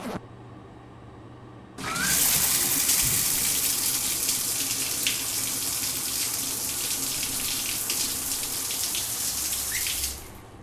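A shower running in The Milgram Experiment demo game: water switches on abruptly and pours as a steady, loud, hissing stream for about eight seconds, then cuts off, with no talking over it.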